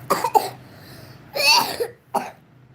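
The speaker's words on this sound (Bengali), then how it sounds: "খালি কাশি হচ্ছে আলাদা" A few short, close coughs in quick succession, then a pause and a louder burst of coughing, followed by one last single cough.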